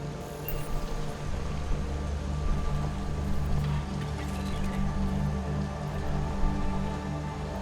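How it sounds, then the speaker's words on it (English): Continuous rainfall in Mass Effect: Andromeda patters over a low, steady hum, an even wash of drops with no talking. "The rain makes everything a little slick"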